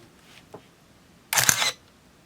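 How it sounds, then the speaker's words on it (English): A film camera fires its shutter at one-sixtieth of a second, a single crisp mechanical clack lasting a fraction of a second, close and clear in a quiet room, preceded by a faint small click. "I'm going to set this at a much faster shutter speed, let's say a 60th of a second."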